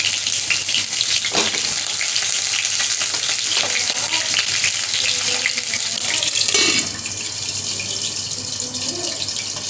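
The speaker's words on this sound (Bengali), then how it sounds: "চলো এখন আগে পটলটাকে তেলে ভেজে নিই" Pointed gourd pieces fry in oil in a kadai with a loud, constant, close sizzle full of sputtering crackles and occasional stirring knocks, easing slightly toward the end.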